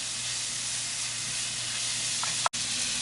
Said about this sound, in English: Cook your bacon until it's nearly cooked all the way through